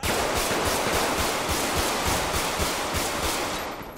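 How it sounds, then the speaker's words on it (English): Video game gunfire: steady rapid thudding shots in a loud, noisy continuous barrage, fading slightly at the very end. "They still shooting you."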